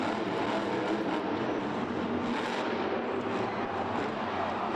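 The Max D monster truck engine roars loudly and continuously during its run inside the Georgia Dome arena at a 2013 Monster Jam event, with a broad, unbroken rumble and crowd-wash texture.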